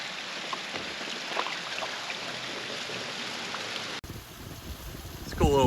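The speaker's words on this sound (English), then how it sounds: "It's a cool little waterfall right here." Steady broadband rushing water, like a small waterfall splashing nearby, fills most of the clip before shifting to a quieter, different water sound.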